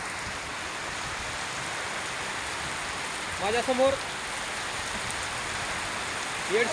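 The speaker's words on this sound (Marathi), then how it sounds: "गावात जोरदार पाऊस चालू आहे" Heavy rain pours down at a road junction in Yedshi village, a dense, steady wash of noise with no letup. A voice briefly speaks partway through.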